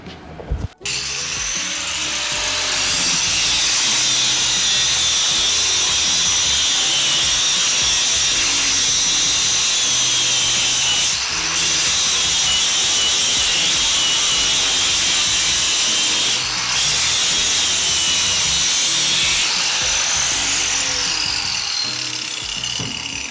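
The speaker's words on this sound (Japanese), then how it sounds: "溶接してあるところをじゃあグラインダーで削って。" An angle grinder cuts into the welded spots on a bus floor during a DIY bus camper conversion. It sounds as a loud, continuous high-pitched whine that holds steady for about twenty seconds, with brief dips where it catches or shifts.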